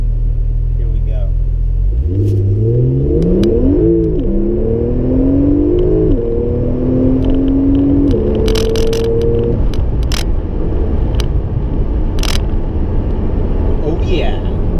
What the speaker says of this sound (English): I'm going to give this thing a little bit of power